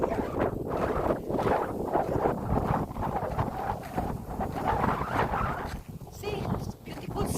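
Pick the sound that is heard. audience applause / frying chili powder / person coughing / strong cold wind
strong cold wind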